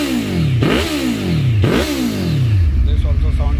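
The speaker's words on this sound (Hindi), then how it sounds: "योशीमुरा साउंड हायाबुसा में लगे हुए योशीमुरा." Suzuki Hayabusa superbike fitted with a Yoshimura exhaust revving hard three times, each rev climbing and dropping quickly, loud and close before settling into a rumbling idle.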